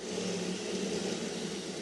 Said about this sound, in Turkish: Normal demir matkap ucuyla perçinlerimizi patlatıyoruz